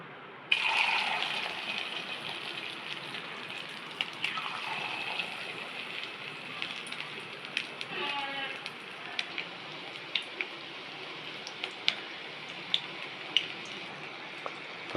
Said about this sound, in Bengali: এবার আমি এই মাছগুলোকে এক পিস পিস করে ভাজবো, একটা একটা করে এই তেলে।